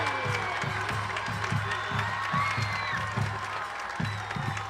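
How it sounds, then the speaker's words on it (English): Crowd at a high school football game clapping in a steady rhythmic pattern with scattered cheers and shouts, heard from a distance with a low drum-like beat keeping time. "Lots of clapping on the Shikellamy side as well"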